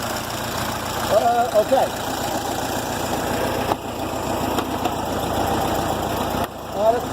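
A Ford Model T engine idles with a steady, slightly knocking rumble that carries throughout, while people talk briefly nearby.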